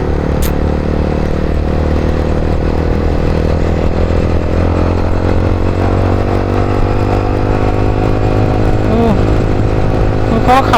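A Yamaha R15 motorcycle engine drones steadily at close range while riding, a continuous low hum with rising pitch sweeps toward the end, and speech mixes in faintly at times.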